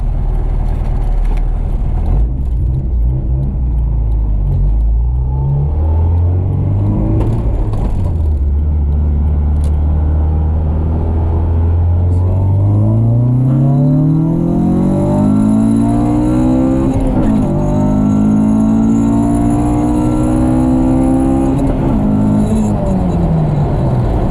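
Honda Civic with an H2B engine swap on a lean tune, idling roughly with its pitch drifting up and down and a few rising revs, loud and close, with a little talk now and then.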